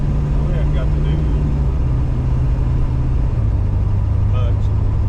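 Engine of a 1970 Pontiac GTO with an LS swap, heard from inside while driving: a steady low rumble that shifts pitch midway, with faint squeaks and rattles over it.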